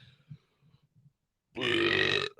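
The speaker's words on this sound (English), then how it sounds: "Excuse me, I had to burp a little bit" One long, loud burp rumbles out alone after a stretch of quiet, faint mumbling, followed by a brief trailing grunt.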